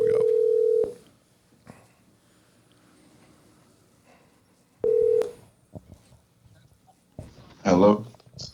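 A telephone rings on an outgoing call, with two long steady ring tones a few seconds apart, loud and close, followed by a brief burst of voice at the end.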